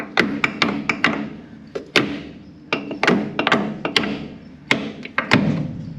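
Lug nuts on a 1991 Jet grain trailer wheel being broken loose, a series of sharp, loud metallic knocks and clanks at irregular intervals, close by, with no talking.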